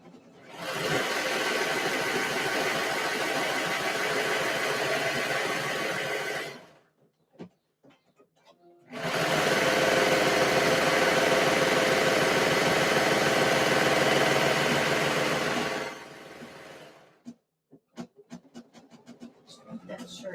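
A sewing machine stitches fabric for skirts in two long, steady runs of loud, close whirring broken by a brief pause, followed by scattered handling clicks at the end.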